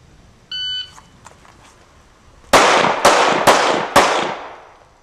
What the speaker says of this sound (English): you're going to step first, then you draw and shoot into the target